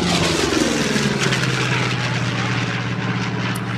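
An F8F Bearcat propeller plane makes a high-speed pass, its loud, close engine and propeller roar holding steady and continuous throughout.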